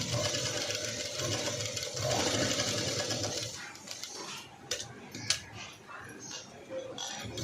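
Sewing machine stitching fabric from the buckram side in a cut work design, a loud steady close run for about three and a half seconds, then stopping to scattered clicks and handling noises with a voice speaking.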